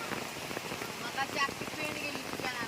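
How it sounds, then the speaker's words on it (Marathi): Steady heavy rain pours down during flooding, a dense continuous hiss with spattering drops, with voices faintly audible in the background. "तुफान तुफान पाऊस आहे"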